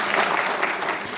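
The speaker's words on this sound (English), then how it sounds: "I kind of almost want you to give an applaud to yourselves for making it here" Brief burst of audience applause at a zero knowledge technology summit welcome session, thick crowd clapping heard alone and sustained across the moment.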